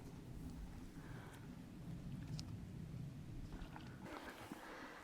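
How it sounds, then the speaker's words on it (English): Steady rain mixed with snow patters and hisses outdoors, a continuous wet wash with a low rumbling undertone, brightening slightly toward the end. "A little bit of snow action going on. It's like snow rain combo."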